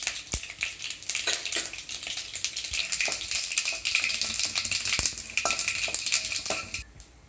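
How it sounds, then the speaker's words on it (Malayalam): Mustard seeds and dried red chillies sizzle in hot oil with dense, continuous crackling and popping, full and close, tapering off at the end. "എണ്ണ ചൂടായിട്ടുണ്ട്. നമുക്ക് ഇതിലേക്ക് കടുക് ഇടാം."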